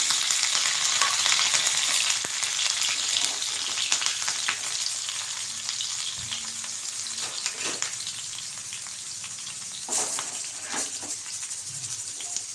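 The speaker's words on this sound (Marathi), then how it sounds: "तूप इथे छान असं गरम झालेलं आहे मिरची टाकून घेऊया" Green chillies frying in hot ghee, giving a loud continuous sizzle like steady rain with sharper spatters and a few clatters of a utensil, no voices.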